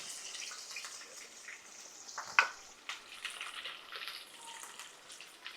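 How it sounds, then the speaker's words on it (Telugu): Onions and green chillies fry in a pan with a faint, continuous hissing sizzle, broken by occasional small pops and a clink of stirring. "పచ్చిమిరకాయలను ఉల్లిపాయలు వేస్తున్నాను"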